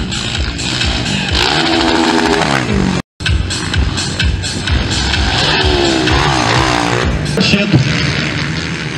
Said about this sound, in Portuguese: E a moto que vocês visualizam, a azulona lá, o uniforme branco e o vermelho, os dois Crispim, são pilotos de Rochedo.